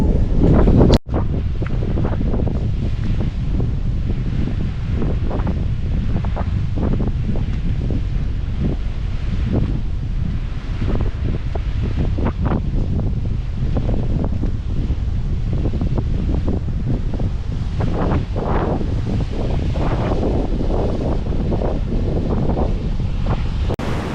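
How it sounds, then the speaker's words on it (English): Rough ocean surf at Queen's Bath on Eleuthera rolls and crashes under heavy wind buffeting a microphone, a dense, loud, continuous roar with swelling wave surges and no voices. "The ocean is a little raging, but it's not as bad."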